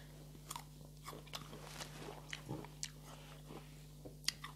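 Someone bites and chews a crunchy fruit eaten with its skin on, giving soft, scattered crunches at close range over a quiet background hum, with no talking.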